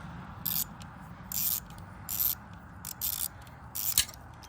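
Small bolts being snugged into aluminum on a Gas Gas 700 motorcycle during an oil change: five short, quiet ratcheting bursts evenly spaced, each a raspy click-run, close by with no voices.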